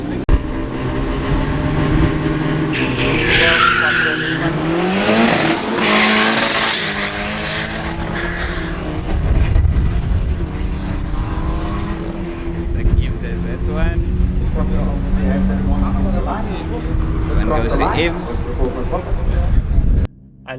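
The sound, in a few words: Audi S3 8V launching in a drag race, wheel spin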